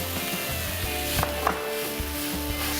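Onions hitting a hot pan after browning, giving a steady, dense sizzle with small crackles throughout, close and alone.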